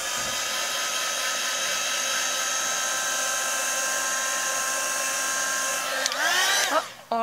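A hair dryer blows steadily over a watercolor painting of misty trees, a loud continuous whine that holds for several seconds, then shifts pitch and sputters as it is switched off at the end.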